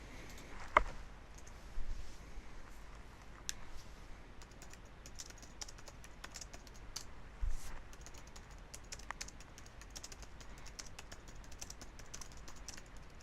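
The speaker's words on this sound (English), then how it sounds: "There's me being unprofessional again, typing whilst recording." Steady typing on a computer keyboard runs throughout, a continuous patter of quiet, close key clicks with occasional louder taps and no talking over it.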